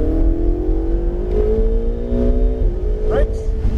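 Ferrari 488 GTB accelerating at full throttle on a race track, engine pitch rising steadily through a gear and climbing again. A voice talks over the loud, close engine.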